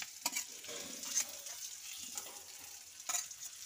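Potato pieces frying in a pan, a soft, fairly faint sizzle with a few scraping stirs and clinks now and then.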